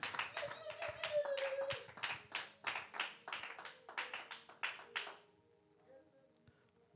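A church congregation claps in a lively rhythmic burst, mixed with voices and a sustained sung or shouted tone, fading out to near silence after about five seconds.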